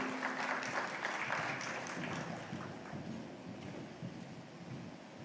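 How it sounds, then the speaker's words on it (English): A crowd applauds at a business awards ceremony, a dense wash of clapping from a distance that slowly thins and fades. "Ladies and gentlemen, a big round of applause for Sanjay Kapoor."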